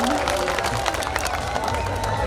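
A crowd claps and cheers at an outdoor poetry recital during a Diwali fair in Udaipur, with a busy mix of applause and voices that stays steady throughout.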